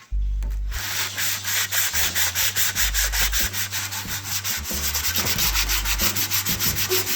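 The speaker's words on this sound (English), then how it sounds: "We'll sand these down and just kind of go at it bit by bit." Old stove pieces are sanded by hand in a steady back-and-forth rhythm of loud, close rasping strokes, continuous throughout with no talk.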